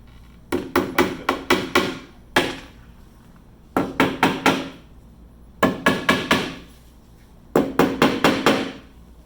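Nails are hammered into glued wooden laminations on a former, loud close blows landing in quick bursts of four to six strikes, with short pauses between the groups.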